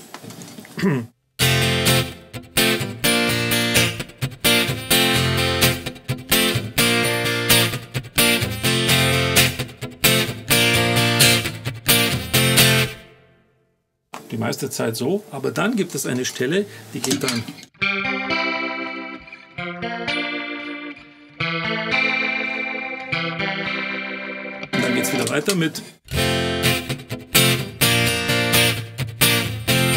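Electric guitar played through a Fractal Axe FX III with slapback echo, loud distorted riffs in bursts with short gaps and a cleaner, thinner passage midway; someone talks briefly between phrases.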